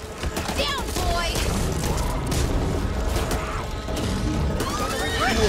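Dense gunfire in the co-op zombie shooter Back 4 Blood, with rapid overlapping shots, cracks and mechanical weapon clatter filling the whole stretch at a steady, loud level, with a voice underneath.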